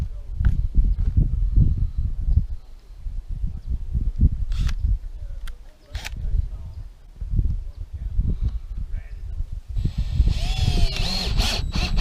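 A power drill drives screws to fasten a vent onto an RV roof, giving short, uneven buzzing bursts with rumbling handling knocks in between.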